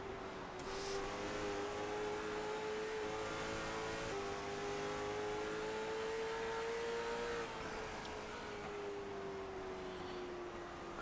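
Late model race car on a short track at Myrtle Beach Speedway, engine held on the throttle in a steady loud whine with a slowly rising pitch that eases off near the end.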